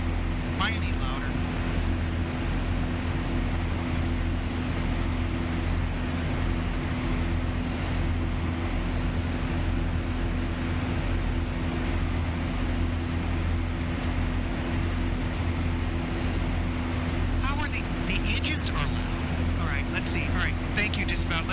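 Boeing 737-800 engines in the ZIBO flight simulator for a KGPI to KSEA flight in a home-built flight deck, giving a loud, steady, unbroken roar throughout, with brief faint voice-like sounds near the end.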